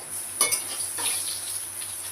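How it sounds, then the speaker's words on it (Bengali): Potatoes frying in a pan after cumin seeds, with a steady close sizzle and a couple of brief spatula clinks near the start, heard alone without speech. "আলুটা একটু ভেজে নেব"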